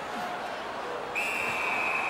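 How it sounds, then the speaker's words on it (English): In the NHL 17 hockey video game, a referee's whistle cuts in sharply halfway through and holds as a steady shrill tone over a low arena crowd murmur. "A whistle and a rest."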